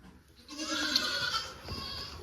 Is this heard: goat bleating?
yes